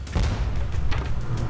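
An airstrike in the side-scrolling action game Broforce sets off a rapid run of heavy booms and rumbling blasts, loud and continuous with sharp impacts layered over a deep low rumble.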